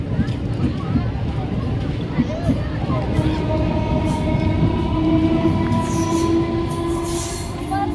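A train stands at a railway station with a loud, steady rumble of wheels and carriages. High metallic squeals come and go, and voices can be heard underneath.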